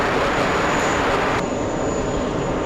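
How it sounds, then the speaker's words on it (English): A South Korean government Boeing 747 goes around at JFK airport, its jet engines producing a loud, continuous broadband roar that holds steady throughout, with no voices. "this is the South Korean government 747 staying on the runway a little too long"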